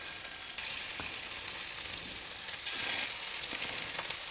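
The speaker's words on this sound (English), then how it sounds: "That oil is piping hot, so I'm gonna add my meatballs in, and you don't wanna overcrowd the pan." Meatballs sear in piping hot olive oil in a crowded-free pan, giving a steady, dense crackling sizzle throughout with a few brief pops and scrapes, close and fairly loud with no talking.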